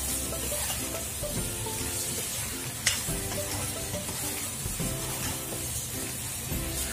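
Ginataang tilapia, tilapia in coconut milk, is stirred in a pan. A continuous bubbling sizzle runs under repeated spoon scrapes, with one sharp clink midway. The sound is close and fairly quiet, with no talking.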